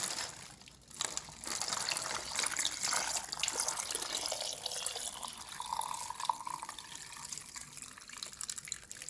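Salt and chili brine poured over lemons packed in a jar for quick hot-pepper lemon pickle, a continuous close liquid pour and trickle that stays fairly steady for several seconds, no voices.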